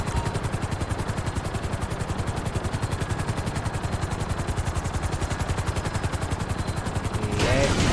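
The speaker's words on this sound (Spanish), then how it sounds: "Aterrizo el helicóptero aquí." A helicopter lands in the GTA video game, its rotor making a rapid, loud, continuous chopping pulse throughout, close and steady, rising slightly at the end.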